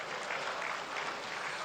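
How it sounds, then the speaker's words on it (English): A large audience at a formal televised event applauds after a speech, a dense, even wash of clapping that holds steady throughout. "he deserves another round of applause."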